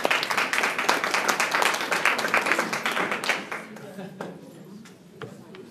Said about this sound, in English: Let's give the 10th and 11th grade teachers a round of applause as well.